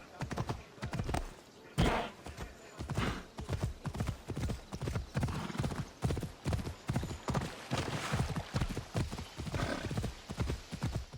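Horse hooves gallop in steady, rapid clip-clop beats throughout Assassin's Creed Odyssey, loud and continuous with a faint whinny and a voice underneath.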